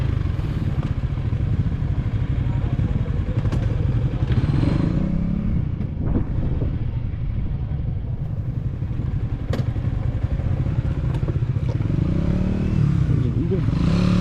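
A motorcycle on a road near a Poblacion chapel, its engine droning loudly and steadily throughout with rattling clatter and wind-like rumble, as from a moving ride, while people talk intermittently over it.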